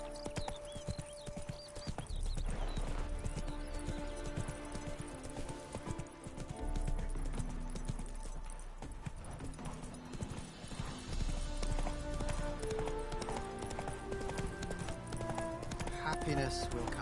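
In The Witcher 3, a horse's hooves pound out a steady, rhythmic clip-clop gallop that runs throughout, with voices talking over it.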